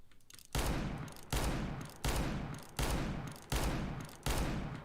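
R8 Revolver fired in a first-person shooter game, six loud, evenly spaced heavy shots about three-quarters of a second apart, each booming report ringing out and decaying before the next.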